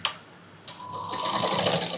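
After a short quiet start, a sewing machine stitching a Punjabi dress starts up and runs in a close, rapid, steady whirring and clatter until the end.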